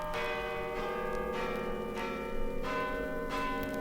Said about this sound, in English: Listen, the bells.